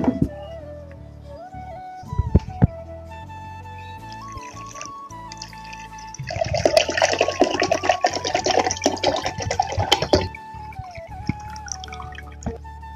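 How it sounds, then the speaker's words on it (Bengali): Water pours and trickles from a bottle into a container while making sharbat, with scattered drips and small clinks at first, then a louder, denser gurgling pour for several seconds before tapering off. "এবার এই বোতলটায় যেটুকু জল আছে সেটুকুই দেবো"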